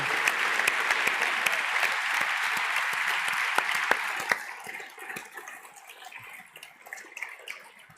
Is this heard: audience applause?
yes